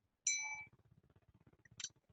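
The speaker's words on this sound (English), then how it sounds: "You know, I had my mindfulness bell." A small mindfulness bell gives one clear ding that rings briefly and fades, then a second shorter strike near the end. Quiet, close, low murmuring sits in between.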